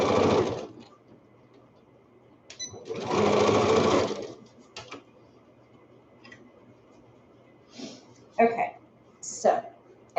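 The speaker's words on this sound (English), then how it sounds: "as I was sewing along," Sewing machine stitching fabric for a child's wrap-around towel, running in two loud bursts near the start, then quieter clicks and short mechanical sounds with talk in between.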